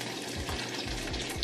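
Water running from a tap into a kitchen bowl that held raw chicken, a steady close splashing rush with no break and no voices.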